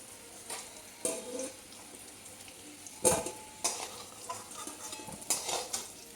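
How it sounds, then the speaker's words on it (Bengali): Potato pieces fry in oil until reddish-brown, with a soft steady sizzle broken by several sharp clinks and scrapes of a spatula stirring against the pan. "আলুগুলো এরকম লাল লাল করে ভেজে নিতে হবে"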